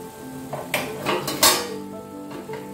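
A pan lid on a pot of rava kichadi is lifted and set down, giving a few sharp metallic clinks and clatters close by over quiet kitchen background.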